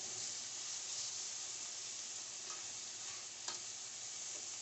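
Onion and shallot cooking in a hot skillet turned up high, giving a soft, even frying hiss that holds steady throughout, fairly faint and close, with one brief stir-like scrape partway through and no voices.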